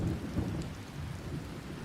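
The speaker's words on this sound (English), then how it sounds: "It is starting to rain, ladies and gentlemen" Heavy rain pours down in a thunderstorm with low rumbling thunder, a dense, continuous wash of rainfall and deep rolls close by and loud, with no voices.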